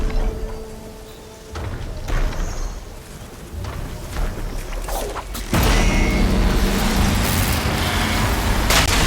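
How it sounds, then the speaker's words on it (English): Heavy rain falls in a video game, a steady broadband wash with occasional creaks and mechanical clunks, growing louder and denser in the second half. "Rain's too loud to hear much."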